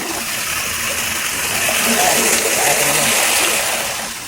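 Flood water pushes steadily past a drain where fallen leaves were just cleared, a loud, continuous rushing and splashing wash that swells slightly midway and holds without pause.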